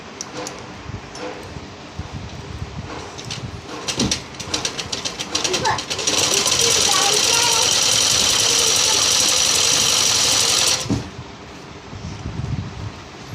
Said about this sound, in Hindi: और इस पर अब हम सिलाई लगा देते हैं 1 बीट की।